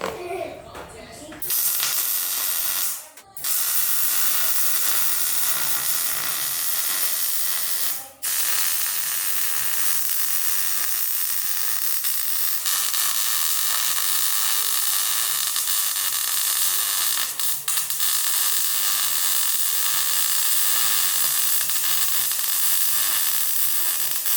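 MIG tack welding on steel for a Barnes truss on a Jeep XJ Cherokee build: loud, steady crackling hiss that runs almost continuously for over twenty seconds, broken by a few brief gaps between tacks.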